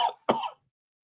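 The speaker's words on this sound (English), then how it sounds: "Excuse me, I had to cough." Two quick, dry coughs close to the microphone, the second stronger, then silence.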